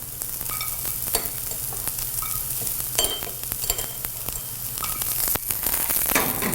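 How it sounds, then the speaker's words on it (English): Sweet onion and celery sizzling in olive oil in a preheated sauté pan, a steady crackling fry with intermittent stirring clicks and scrapes over a low hum, close and moderately loud. "in a preheated saute pan, I'm gonna add a little bit of olive oil, some sweet onion, and some celery"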